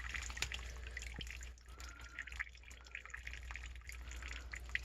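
Water drips from a leak inside a mobile home, faint irregular plinks and drops scattered over a low background hum, quiet and close with no talking.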